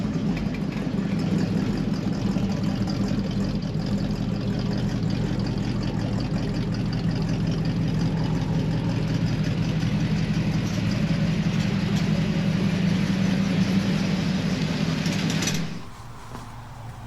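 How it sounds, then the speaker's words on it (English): A 1940 Ford pickup truck engine idles steadily at close range, an even low rumble with a faint knocking texture that holds for about fifteen seconds before cutting off abruptly into near quiet. "And there it is, 1940 Ford pickup."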